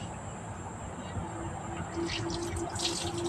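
Steady running water from a tap as sweet potato leaves are washed, with light splashing, growing busier toward the end, with faint background noise.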